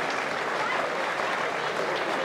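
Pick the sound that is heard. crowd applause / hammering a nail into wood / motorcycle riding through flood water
crowd applause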